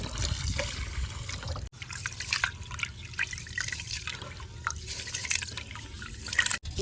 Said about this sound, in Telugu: ఒకసారి మనం శుభ్రంగా నీళ్ళు పోసి కడిగేసుకున్నాము.